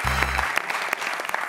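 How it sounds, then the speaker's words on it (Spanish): A studio audience at a Spanish late-night TV talk show applauds a guest, a brisk burst of many hands clapping close and loud, starting over a brief low hum. "Un aplauso para Ricardo, que ha hecho la cara roja."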